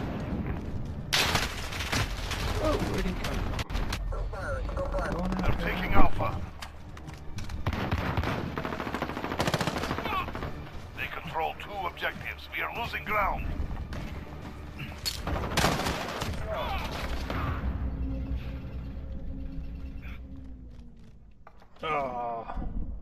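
Video game gunfire, dense automatic bursts and scattered shots with booms running through the whole stretch, mixed under excited talking from a player.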